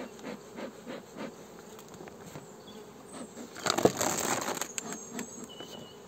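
Honey bees, likely Buckfast, buzzing around an opened beehive during a spring hive inspection, a steady insect drone that swells louder near the middle of the clip.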